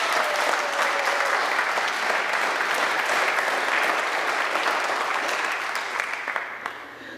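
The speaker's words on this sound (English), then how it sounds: "Let's give a round of applause to everybody." An audience applauds in a sustained burst of dense clapping that stays loud and even, then thins out and fades near the end.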